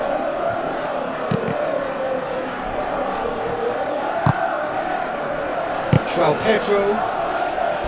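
A steady stadium crowd murmur with occasional rises during a football video game match, continuous and moderately loud beneath a match commentator's voice.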